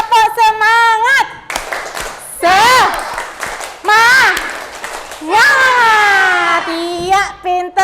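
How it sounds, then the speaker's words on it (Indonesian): Schoolchildren in a classroom lesson perform the 'tepuk semangat' routine, chanting loudly in bursts of high, sing-song voices broken by short rhythmic claps. "Kalau masih semangat, tepuk semangat!"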